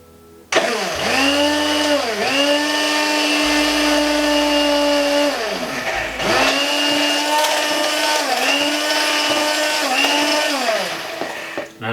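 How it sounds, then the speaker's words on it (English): A stick blender whirs steadily while oil is drizzled slowly into vegan mayonnaise, its loud motor whine dipping and rising in pitch several times as the load shifts, close and continuous, with no talk. "in one hand I've got the stick blender, and the second hand I've got the oil, which will go in just very slowly"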